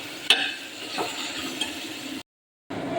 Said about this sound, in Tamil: தேவையான அளவு தயிர் போட்டுக்கலாம் தேவையான அளவு உப்பு இது எல்லாத்தையும் ஒன்றா சேர்த்து மிக்ஸ் பண்ணிக்கலாம்